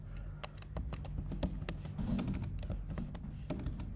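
Someone types code on a computer keyboard, producing a quick, uneven run of close, crisp key clicks with short pauses between bursts.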